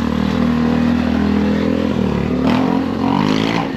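A motorcycle engine idles loudly and close, then revs up in a couple of quick surges before settling, its steady low drone dominating throughout.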